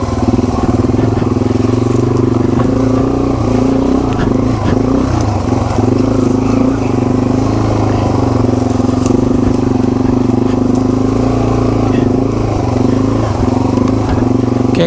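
A Yamaha TW200 dual sport motorcycle fitted with a DG V2 exhaust rumbles loud and close under steady riding, its engine drone continuous with faint rattles and wind buffeting throughout.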